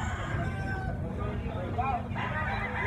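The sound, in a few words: chicken, rooster crowing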